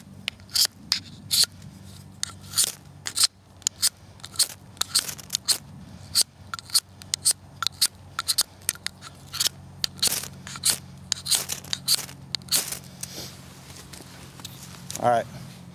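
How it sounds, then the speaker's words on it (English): A Strike Force striker scrapes the coating off a brand-new ferro rod in repeated short, sharp rasping strokes, close and uneven, over a faint low hum, with a buzzy flurry at the end. "I'm going to have to scrape some of that coating off the rod there"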